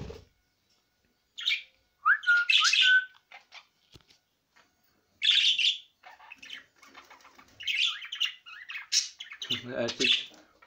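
Pet birds, six males with one female, giving bursts of chirps and squawks up close, loud and intermittent with pauses between calls.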